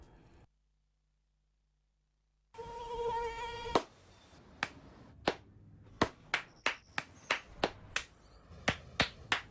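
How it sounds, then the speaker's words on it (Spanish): A mosquito's high, whining buzz plays in a dengue-prevention radio announcement, followed by a run of sharp, evenly spaced hand claps after a short silence. "No aplaudamos al mosquito, combatámoslo en serio."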